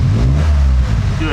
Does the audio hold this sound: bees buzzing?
no